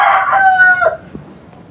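A chicken crows loud and close, one sharp cock-a-doodle-doo that breaks off after about a second, leaving faint quiet background.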